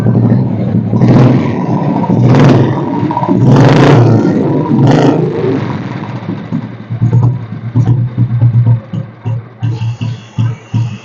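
A 2007 Royal Enfield Bullet petrol motorcycle is self-started, with a few loud rough bursts, then settles into a slow, evenly pulsing thump at idle, heard close up.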